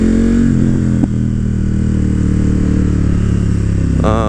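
A KTM Super Duke motorcycle ridden in traffic, its engine humming steadily up close with a brief knock early on and a rising rev near the end, with no voices.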